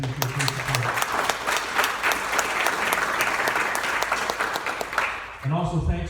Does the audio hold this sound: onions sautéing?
no